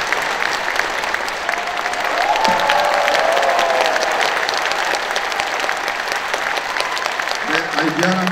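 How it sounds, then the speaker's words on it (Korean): A crowd applauds as a performer bows deeply at an outdoor traditional Korean percussion and folk performance in Seoul. The clapping is dense and sustained throughout, and a voice speaks briefly near the end. "여러분, 큰절 할 때 박수 한번 주세요."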